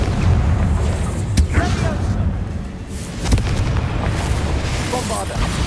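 Confringo spell explosions in Hogwarts Legacy boom with deep rumbling impacts, a couple of sharper cracks standing out over continuous loud battle noise, with a voice calling out spells.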